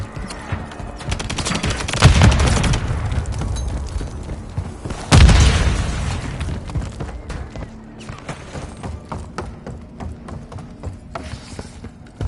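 In Modern Warfare 3 multiplayer, a frag grenade goes off with two heavy booms a few seconds apart, set against a constant crackle of gunfire and rapid automatic bursts.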